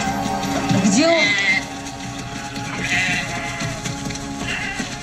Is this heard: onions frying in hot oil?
no